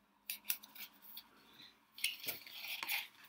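Scissors snip open a tightly sealed package, giving a short run of close, crisp metallic cuts and rustles across a few seconds.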